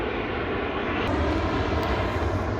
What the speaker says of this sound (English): again the fucking plane, noisy and loud